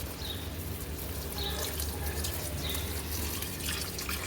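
Water runs in a steady, soft stream onto potted plants in a home garden, a continuous splashing trickle with faint drips and no talking.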